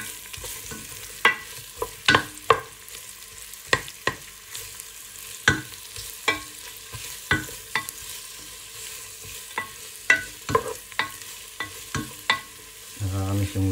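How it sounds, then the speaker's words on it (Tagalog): Onions sizzle in a pan for pork adobo, with a steady fry under repeated sharp scrapes and clacks of a utensil stirring at irregular intervals, close and clear. "Ilalagay rin natin yung sibuyas or onion."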